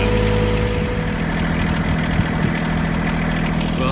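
A tractor engine idles nearby with a steady, deep, even chug, loud and unbroken for several seconds with no voices.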